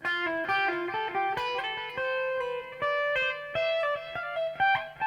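An electric guitar plays a stepping scale pattern, notes moving up in small repeating sequences with a slightly driven, sustained tone, no talking.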